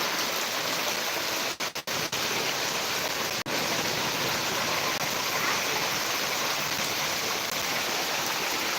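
Heavy monsoon-style downpour flooding a road, a dense steady roar of rain hitting water and surfaces, loud and continuous with a few brief dropouts near the start, no voices.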